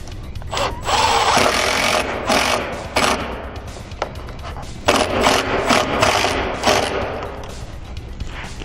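A power driver sinks a 1.5-inch lag screw with a washer through a strap on a Rapid Wall panel, heard as several loud, close whirring bursts separated by short pauses and handling knocks.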